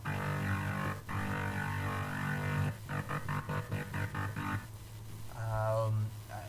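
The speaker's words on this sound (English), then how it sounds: "You can really hear the bit crusher, really hear the dimension expander." A gritty, distorted synth bass made in Massive pulses in a rhythmic pattern, with a buzzing, crunchy bit-crushed digital texture and dimension expander, loud and upfront.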